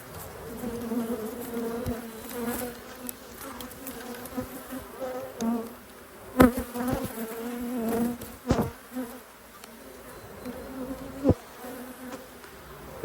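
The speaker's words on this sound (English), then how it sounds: "lots of bees flying around" Dense, steady buzzing of many bees flying around a backyard beehive, close and continuous with a few brief louder knocks and rustles near the keeper.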